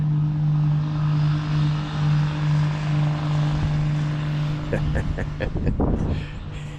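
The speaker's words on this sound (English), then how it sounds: "I like the sound of this engine." A steady engine drones throughout with a low, even hum, growing rougher and busier toward the end.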